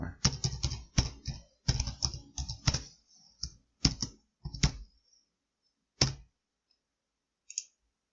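A password is typed on a computer keyboard in crisp, close keystroke clicks, a quick irregular run of taps that slows into a few isolated presses and then falls silent.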